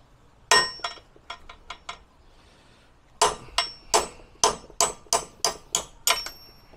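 Hammer blows ring out on a rear brake axle part: a few spaced strikes, a pause, then a fast steady run of about ten sharp metallic hits, close and loud.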